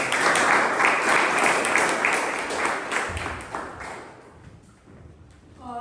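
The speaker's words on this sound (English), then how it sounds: "A big round of applause for Toastmasters." A room full of people at a Toastmasters club meeting claps loudly, the applause tapering off toward the end before a voice begins.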